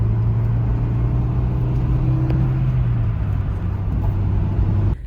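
Steady, loud engine drone from a stock Nissan 240SX pulling away from a stop at low RPM, holding a flat, slightly hesitant tone before the pitch slowly shifts, with no voices.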